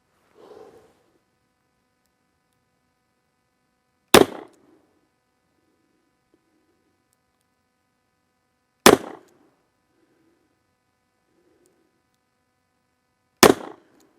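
A Kimber K6s revolver with a 4-inch barrel fires Federal HST 38 Special +P rounds: three loud, sharp shots about four and a half seconds apart, with faint shuffling noises between them.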